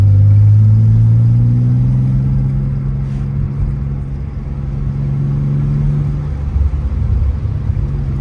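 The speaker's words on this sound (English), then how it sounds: "You know, I like the exhaust. It's not overwhelming. It's not loud." A Nissan 300ZX twin turbo with an HKS exhaust runs close by with a steady, low, mellow engine drone that swells slightly and then settles, with no talk over it.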